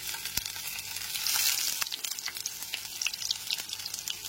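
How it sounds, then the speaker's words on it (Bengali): Potato pieces drop into hot mustard oil in a pan and fry with a bright steady sizzle and a few crackles and spatters, close by and without any talking. "তেলটা এখানে খুব ভালো মতো গরম হয়ে গেছে। এবার আলুর টুকরোগুলোকে দিয়ে দিচ্ছি।"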